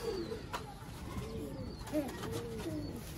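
Sialkoti fancy pigeons cooing softly, a few low rolling coos rising and falling over quiet background hiss, fairly close and without speech.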